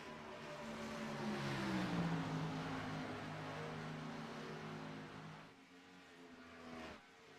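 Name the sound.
stock cars racing at Atlanta in a racing video game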